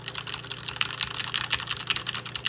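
Fast, steady typing on a SteelSeries Apex 7 TKL keyboard with a metal build, dense close-up key clacks running continuously under a low background hum.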